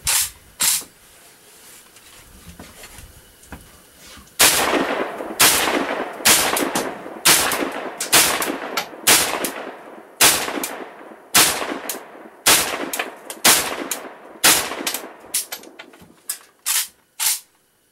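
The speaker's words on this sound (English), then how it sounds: "This first time ever shooting an AK in my life, so hopefully it'll go smoothly." Shots from an AK rifle chambered in 300 AAC Blackout with a Magpul grip at a shooting range, close and loud, firing in a long irregular string of single reports with brief gaps, some in quick succession, and no talk.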